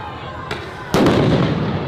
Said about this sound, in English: They're already deploying flashbangs.